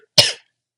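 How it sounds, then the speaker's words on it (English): A single short, sharp human cough, close and loud, with silence before and after. "yeah, I still got a cough."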